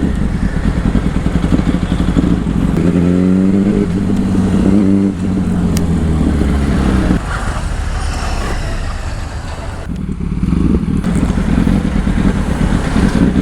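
A 2008 Yamaha R1 sport motorcycle engine running close by, with a couple of rising revs in the first half, then a rougher idle, a brief dip and a settle back into a steady idle.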